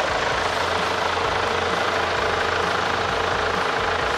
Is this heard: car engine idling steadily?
yes